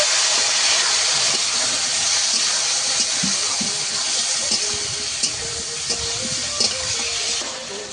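Water poured into a pan of ground chilli and coriander spices, a steady hiss and sizzle of liquid meeting hot spice that holds near and constant, with a few small clicks.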